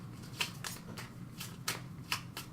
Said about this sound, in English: I'll shuffle that back.